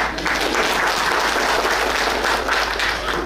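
Steady, loud applause from a crowd, a dense wash of clapping that holds evenly for a few seconds.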